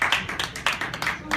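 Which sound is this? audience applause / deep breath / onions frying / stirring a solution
audience applause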